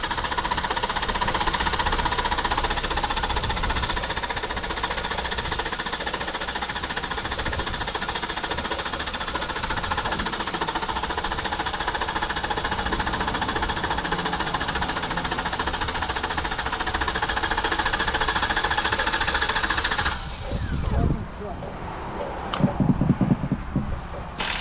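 A knocking engine cranks and then runs, giving a steady, loud, close mechanical drone with a rough, rhythmic clatter for about twenty seconds. It then cuts out into a few uneven knocks and bumps.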